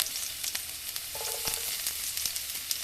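Crushed garlic and cumin seeds hit hot oil for a tempering, a bright, steady hiss of sizzling with a few small pops and clicks, close and without talk.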